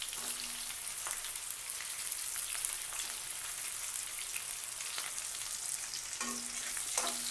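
Onions and dried red chillies frying in a pan for Andhra-style drumstick sambar, a steady close broadband sizzle with a few brief stirring clinks and scrapes, no voices.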